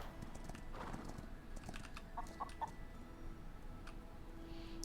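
Horse hooves clip-clopping in the video game Star Equestrian, a steady run of light rhythmic hoof clops with a brief whinny-like sound, quiet and close, over faint ambient game noise with no talking.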